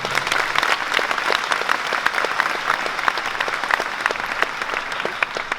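A congregation at a Catholic Charismatic Renewal meeting bursts into strong, even applause, many hands clapping close together throughout the few seconds, with no speech.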